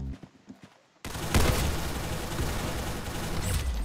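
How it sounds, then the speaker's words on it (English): Gunfire in the Roblox game Arsenal: after a quiet second of faint clicks, a sudden loud burst of rapid shots breaks into a sustained, crackling barrage. "Very good shooting."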